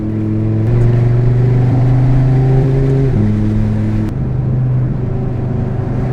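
An Audi RS3 engine, heard from inside with the sunroof open, holds a loud, steady droning rumble whose pitch steps up and down in stages, a sustained low growl with little else present.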